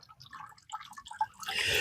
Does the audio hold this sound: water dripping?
yes